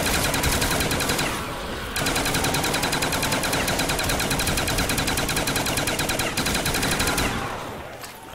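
Sustained automatic gunfire in Call of Duty: Black Ops zombies on the Der Riese map, a loud, dense stream of rapid shots with a brief pause early on, continuing steadily before tapering off.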